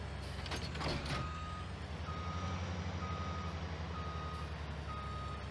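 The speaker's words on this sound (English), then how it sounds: "there's a lot of alarms going off the cab" In Farming Simulator 2019, cab alarms beep in a steady evenly spaced series over the constant drone of farm machinery. Short bursts of noise come early on, and nobody speaks.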